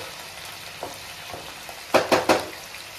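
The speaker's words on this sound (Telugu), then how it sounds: "ఆనియన్ పేస్ట్ ఉంది కదా, అది వేసేసుకున్నాము. ఆ పచ్చి వాసన అనేది పోయేదాకా ఫ్రై అవ్వాలి" Onion paste frying in a pan for a curry-leaf chicken fry, a low steady sizzle close by with a few soft clicks and then three quick, louder scraping stirs near the end, without any talking.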